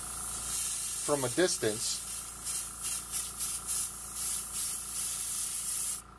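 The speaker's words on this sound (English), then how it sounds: "now I'm just going to mist on some lighter coats" An airbrush set to 10 PSI mists light coats of paint onto a 1/25 scale 1964 Chevy Impala SS model kit, a steady close hiss running throughout while someone talks briefly over it.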